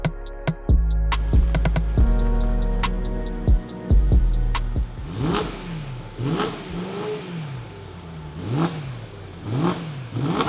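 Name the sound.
BMW E90 M3 engine revving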